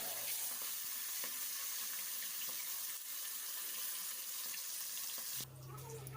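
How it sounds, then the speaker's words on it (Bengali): Pabda fish fry in hot oil in a wok, a steady close crackling sizzle with small pops, fairly quiet, shifting to a low hum at the end. "মাছগুলো ভালো মতন ভেজে নেব।"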